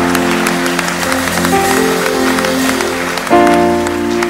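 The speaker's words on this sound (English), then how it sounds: "Clap your hands, somebody." A church congregation claps along at a New Year's Eve crossover service, steady loud applause blended with music and sustained organ-like tones, growing fuller near the end.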